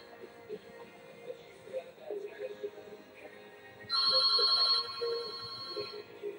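A telephone ringtone chirps in a short electronic burst partway through, bright and fairly loud, after a stretch of quiet background sound.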